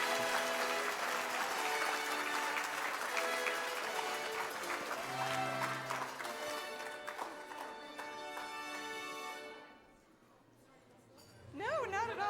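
Applause and cheering ring out for the Best Blog Video winner at a pet-blogging awards ceremony, a dense sustained clatter of clapping that thins toward the end before a voice breaks in.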